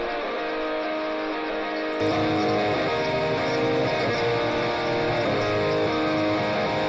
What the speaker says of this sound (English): the guitar on the right sounds like this without any plugins